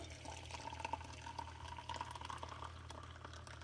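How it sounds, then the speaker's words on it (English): Water pours from a coffee kettle into an Aeropress in a home kitchen, a quiet steady trickling stream running continuously at close range over a low background hum. "I bring my coffee kettle over and I fill it all the way up"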